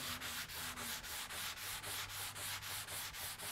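Steady back-and-forth sanding with a sponge on a black oak wood finish, about fourteen even rasping strokes in a row, close and fairly quiet with no talking.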